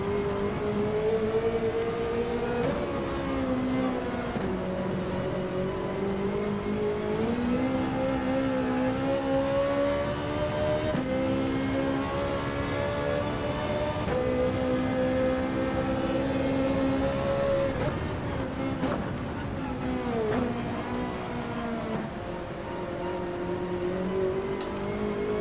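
Race car engine lapping the Nürburgring in Gran Turismo 7, a steady loud drone with harmonics rising and falling through gear changes and revs, continuous for the whole stretch with no talk.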